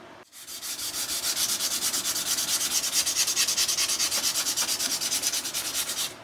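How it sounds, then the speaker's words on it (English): Hand sanding of a wooden knife handle: a steady, rhythmic rasp of quick back-and-forth strokes, close and fairly loud, continuing for several seconds without speech. "I'm not just sitting here and sanding like this, because I do want to blend in any of the harsh lines"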